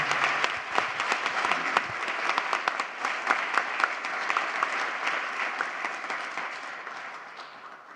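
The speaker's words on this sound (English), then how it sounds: "Please join me in giving a warm round of applause for Mayor Philip Jones" An audience at a Newport News State of the City event applauds warmly for Mayor Philip Jones, a full, dense wash of clapping from a large crowd that gradually tapers off.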